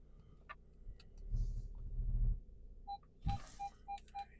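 The parking sensors of a 2011 Volkswagen Golf Plus SE TDI beep while the car reverses, a run of five or six evenly spaced short tones near the end over low engine rumble and a brief thump.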